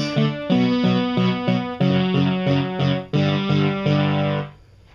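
A piano plays the intro of a song: a simple repeating chord pattern with steady rhythmic stabs, then rings out and fades at the end.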